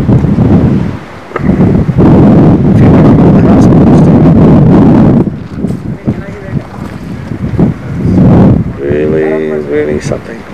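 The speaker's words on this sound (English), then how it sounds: "The wind is blowing pretty hard, so it's moving me about a little bit." Hard wind buffets a microphone outdoors on an exposed high point, loud rumbling gusts that surge and ease, with a voice speaking briefly among them.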